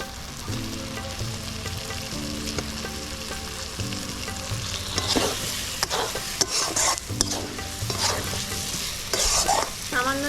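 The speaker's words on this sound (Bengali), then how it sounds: "দিয়ে আর একটু কষবো। এরপর এর ভেতরে ভেজে রাখা আলুগুলো দিয়ে দিলাম।" Spiced fish curry masala with fried potatoes stir-frying in a pan, giving a continuous close sizzle broken by bursts of spatula scraping and clattering against the pan.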